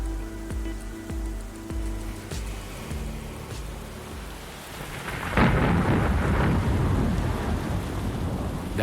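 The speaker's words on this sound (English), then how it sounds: "The rain is torrential." Pacific thunderstorm with torrential rain in Fiji, with rolling thunder cracks early on, then a heavy, loud downpour roaring steadily through the rest.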